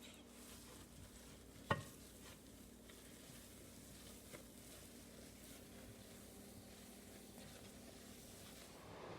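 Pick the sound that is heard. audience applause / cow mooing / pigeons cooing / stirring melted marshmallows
stirring melted marshmallows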